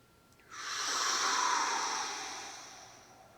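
A single deep, airy inhalation during a tai chi warm-up, a close, steady rushing breath that swells and then slowly tapers away, with no talking over it.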